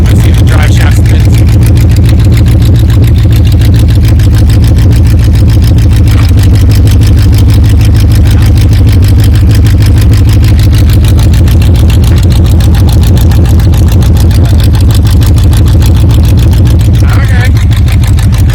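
A 1978 Chevy K10 pickup, left sitting 27 years, idles loud and close with a steady low rumble while its drive shaft spins, the engine drone holding evenly throughout.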